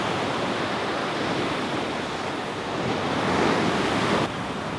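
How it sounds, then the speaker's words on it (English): Ocean waves break on a beach near a campsite at sunset in a loud, continuous roar of surf with wind noise, swelling briefly near the end. "we're down by the beach here near our campsite"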